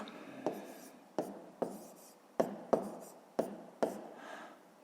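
A math solution written by hand for a fifth-grade exercise: seven distinct tapping pen strokes, each with a short scratch after it, close and fairly quiet, with no voice over them.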